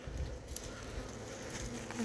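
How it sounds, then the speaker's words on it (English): A honeybee swarm clustered on a tree hums with a faint, continuous buzz, close and low, steady throughout the short stretch. "I got bees on my hand"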